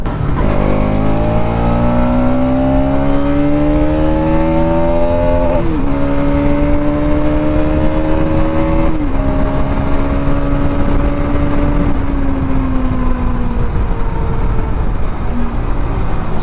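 A 2023 Bajaj Pulsar NS 200 motorcycle with USD forks cruises on the road. Its engine note climbs steadily through several gear changes, close and loud over constant wind rush, with no talk.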